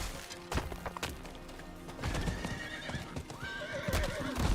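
Horse hooves clip-clop at a gallop through a town in the Diablo IV video game, a steady drumming rhythm with a whinny and scattered thuds mixed in, close and prominent.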